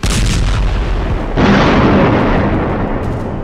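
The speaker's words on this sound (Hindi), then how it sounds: "जिस वक्त गाजा की गली गली में इजराइल के बम गिर रहे हैं" Heavy blasts during an Israeli aerial bombardment of Gaza, a loud sustained rumble with a fresh booming burst partway through that rolls on and slowly decays; dense and overwhelming, with no voices.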